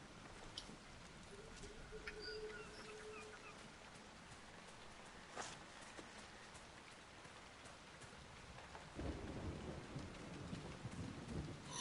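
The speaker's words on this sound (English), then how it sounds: "It's always going to be rainy here." Steady rainfall with a low rumble of thunder in a Dragon Age: Inquisition game environment, a continuous wash of rain that swells louder toward the end, with faint scattered ambient sounds.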